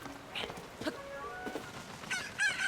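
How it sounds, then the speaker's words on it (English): Cuckoo chickens in Zelda: Tears of the Kingdom give a few short, soft clucks and squawks, low in level and scattered over quiet game ambience with faint music. "There's some cuckoos in here"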